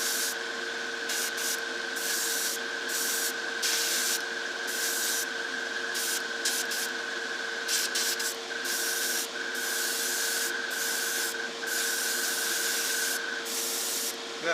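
Airbrush spraying a mist coat of Badger Stynylrez black water-based acrylic polyurethane primer, a steady close hiss broken into many short bursts as the trigger is pulled and released, with a constant compressor tone underneath and no talking.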